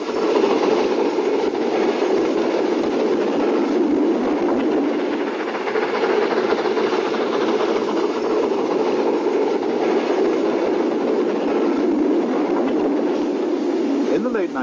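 A 1970s steam suburban train at Trindade station in Porto rumbles steadily and loudly throughout, a continuous dense mechanical roar with faint rhythmic clatter and no clear pauses.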